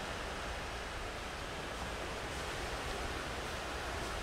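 Sea waves at Chao Lao beach make a steady, broad wash of surf, even and continuous without distinct breaks, fairly faint and with no voices.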